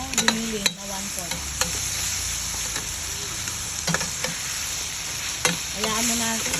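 Ground meat sizzles steadily in a pan while being stirred, with repeated scraping clicks of a utensil over a constant frying hiss.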